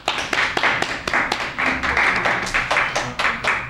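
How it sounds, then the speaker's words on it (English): An audience at a poetry reading in a branch library claps for a poet, a small crowd with distinct individual hand claps in a fairly quick, uneven patter, close and lively, sustained without pause. "So let's give Jeannie a great round of applause."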